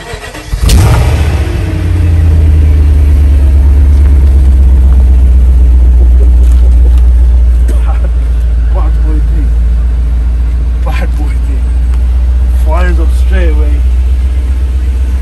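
BMW 840Ci E31 with a 4.4 V8 cranking and catching, then settling into a loud, steady close-up idle with occasional light revs, while people talk briefly over it.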